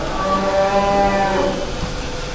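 A large cow at the Sadeeq Agro cattle farm, raised for Qurbani, lets out one long, loud, close moo with a deep, resonant tone that holds for about two seconds.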